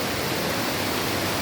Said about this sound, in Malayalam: നല്ല സൂപ്പർ മഴ പെയ്തുകൊണ്ടിരിക്കുകയാണ് ഈ സമയത്ത്